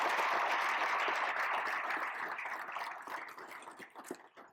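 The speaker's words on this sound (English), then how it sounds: "Big round of applause." Audience applause at a policy conversation event with a Canadian federal minister: dense, steady clapping from a room full of people that gradually thins and fades over the last seconds, with no talking.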